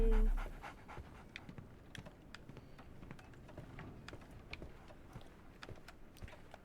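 A dog in the video game Sherlock Holmes: The Awakened pants in quick, steady rhythm, faint and close, after a brief louder sound at the start.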